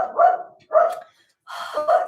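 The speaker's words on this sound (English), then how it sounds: "It's so annoying, his barking." A dog barks three times in quick succession, loud and close, in a quiet room with no talking over it.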